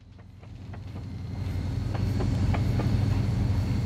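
An EMD GP40 diesel locomotive in the Mashinky video game pulls away in a steady low engine rumble that builds in loudness, with faint periodic rail clicks over it and no voices.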